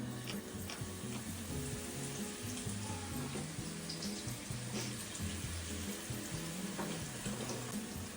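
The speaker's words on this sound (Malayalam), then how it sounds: "കോക്കനട്ട് ഓയിൽ ഒന്ന് ചൂടായി വരുമ്പോൾ അതിലേക്ക് നമുക്ക് ഉള്ളി ആഡ് ചെയ്യാം" Onions fry in hot coconut oil with a steady, dense sizzle throughout, heard close up, with no talking.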